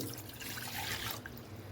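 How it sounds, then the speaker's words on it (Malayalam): A cup of water is poured into a steel pot on the stove for jackfruit curry, a soft, close, continuous splash and trickle lasting under two seconds. "അപ്പം ഇതിൽ ഞാൻ ഒരു കപ്പ് വെള്ളം ഒഴിച്ചു"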